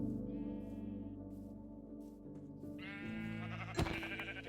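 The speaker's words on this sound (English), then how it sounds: "if we find another white sheep" Sheep in Minecraft bleat in wavering, slightly echoing calls, one early and another later, fairly faint over a soft background, ending with a short sharp game sound.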